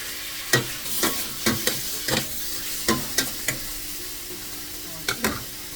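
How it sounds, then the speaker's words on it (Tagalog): Pork cooks in a pot over a soft, continuous sizzle, while a dozen or so quick clinks and knocks of stirring sound in irregular bursts close by. "I-simmer ko na natin yung ating pork."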